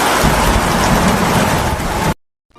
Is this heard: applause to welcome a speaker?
no